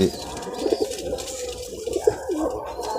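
Pigeons kept for sale coo softly in repeated low, throaty calls, close by against a busy background murmur.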